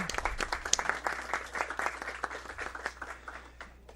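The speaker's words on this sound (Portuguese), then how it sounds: "Vamos aplaudir todo mundo, né?" Audience applause at a public council meeting: a steady, dense patter of many hands clapping, fairly close and sustained throughout with no talking over it.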